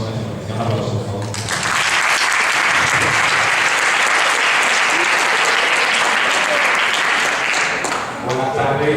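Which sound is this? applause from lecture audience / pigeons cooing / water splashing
applause from lecture audience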